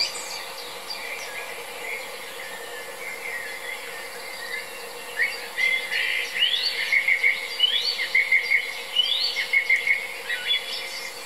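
Small birds sing at dawn near a sea eagle nest at Durbe. Faint ambient hiss comes first, then repeated bright chirps and short trills grow busier over the second half, moderately close.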